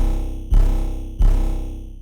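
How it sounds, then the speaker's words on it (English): Deep 808 bass in a dark, glitchy beat, struck twice with heavy booming low end that swells and slowly decays, layered over a steady, dense, buzzing synth texture with no voices. "So next I added an ISO 808."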